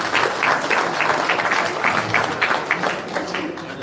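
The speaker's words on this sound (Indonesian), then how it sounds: "Beri tepuk tangan buat semua." A crowd at a gathering about the Constitutional Court process breaks into applause, many hands clapping in a dense, rolling burst with some individual claps standing out, sustained for the whole stretch.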